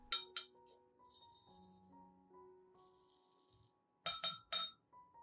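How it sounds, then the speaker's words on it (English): Dry rice grains poured into a clean glass cup, with sharp rattling clinks at the start and again near the end, separated by a quieter stretch of faint ringing tones. "Add 3 tablespoons of rice into the cup."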